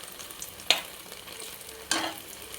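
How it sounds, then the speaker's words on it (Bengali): Paneer fries quietly in a pan with a low continuous sizzle, punctuated by two sharp utensil knocks against the pan about a second apart. "হয়ে গেল পনির ভাজা,"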